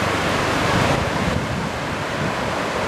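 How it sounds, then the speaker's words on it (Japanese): Small typhoon swell at Zaimokuza beach in Kamakura, a loud continuous wash of surf with heavy wind rumble on the microphone, no voices. "やっぱりここは非常に波が小さいですね。"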